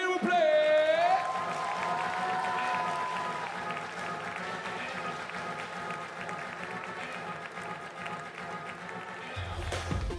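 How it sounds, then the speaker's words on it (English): A crowd at a 3x3 basketball finals cheers and claps steadily in a large venue, with a loud tone and amplified voices over the top before the applause thins out. "Applaudissements pour Miller, s'il vous plaît."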